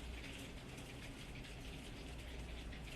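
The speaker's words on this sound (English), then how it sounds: "that sounds like freezing rain to me" Freezing rain falls steadily outside, a faint, even hiss with dense ticking and pattering that stays constant throughout, with no voices.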